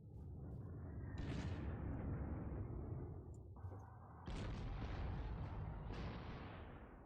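Level bombers strike tanks in the Panzer Corps strategy game near Dnipropetrovsk. Two long, rumbling waves of explosions roar in turn, dense and heavy, with no talk over them.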